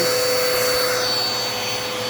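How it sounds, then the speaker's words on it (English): A Dirt Devil Endura Reach vacuum cleaner runs indoors at close range, a loud, steady whine that stays constant for the whole stretch, with no voices. "we're going to go ahead here and vacuum up the"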